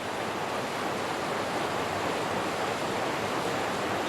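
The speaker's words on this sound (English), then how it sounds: "we're doing a short stop here on the Motueka River." The Motueka River in New Zealand, swollen after weeks of rain, makes a steady, even rush of flowing water that fills the whole stretch without any voices.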